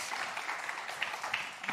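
Audience applause at a French talk event, a steady patter of many hands clapping at moderate volume for under two seconds.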